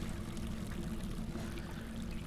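Water poured out of a bottle in the Colossal Cave video game, a steady continuous gurgling pour, moderately quiet and alone.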